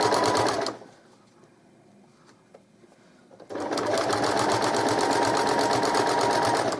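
A sewing machine runs loudly and steadily while stitching a double-sided baby blanket, falls to near silence for a few seconds, then starts again at full speed and keeps whirring to the end.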